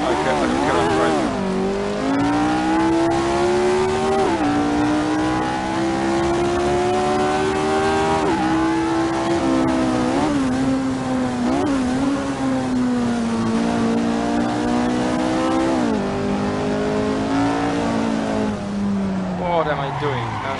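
Lotus Type 49 race car at Monza in the Assetto Corsa racing game, its engine a loud, continuous howl that rises and dips with gear changes and revs throughout, with a voice speaking over it.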